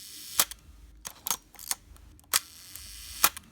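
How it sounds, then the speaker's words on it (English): Several sharp mechanical clicks from a Nikon F film camera with a damaged shutter and waist-level viewfinder, fired repeatedly in an irregular series, close and crisp against a quiet room. "my shutter is a little damaged, but it still works perfectly fine"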